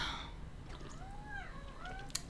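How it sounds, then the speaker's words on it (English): A house cat meows faintly a few times in drawn-out, wavering calls over a low steady background hum. "So I guess my cat is making a lot of noises."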